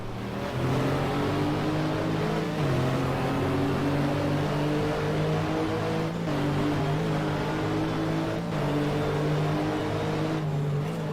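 NGT race car in the GTR 2 sim racing game at Silverstone, a loud steady engine note with rising and shifting harmonic pitches as gears change, close and continuous with no talking.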